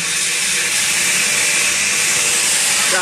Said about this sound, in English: You guys will notice Claudio grinds with the blade facing down.